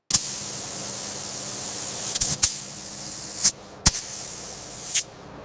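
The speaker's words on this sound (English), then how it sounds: "Technician begins spraying from the upper sections downward, moving in smooth overlapping passes." A spray gun sprays coating on panels of a Mercedes-Benz T1 van: a steady hiss runs almost continuously, broken by a few brief pauses and sharp clicks as the trigger releases and restarts.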